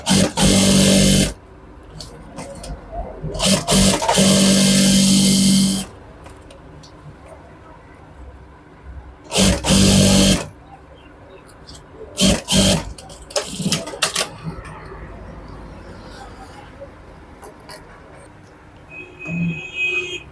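A sewing machine stitches along the edge of a shirt cuff in several loud bursts of rapid whirring, separated by pauses and handling noises.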